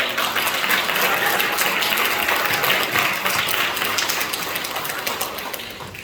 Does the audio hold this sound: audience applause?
yes